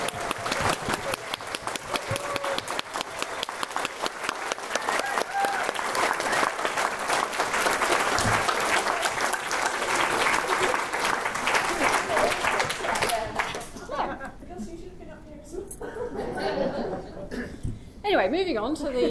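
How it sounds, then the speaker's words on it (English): Large audience at an awards evening applauding steadily, with cheers, whoops and laughter running through the dense clapping before it thins out near the end. "give an enormous round of applause, but also I want some foot stamping and a bit of whooping for Gustav and for Natalie."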